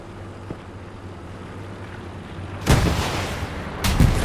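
A rocket strike on a T-34 tank in a Kursk battle video game: two heavy, booming blasts arrive late, the second a second after the first, following quiet rumbling ambience.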